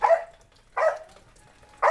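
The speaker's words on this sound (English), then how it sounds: "my dog is very noisy right there." A dog barks three times in quick succession, loud and close by, each short bark separated by a pause with no talking over it.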